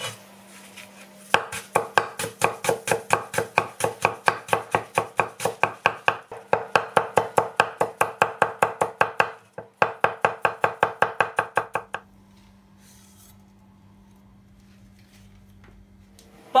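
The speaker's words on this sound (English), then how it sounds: "roughly chop them up will do." A knife rapidly and steadily chops ginger, spring onions and bok choy on a wooden board for pork potstickers. Dozens of crisp, close strikes run for about twelve seconds, with a brief pause partway through, then stop.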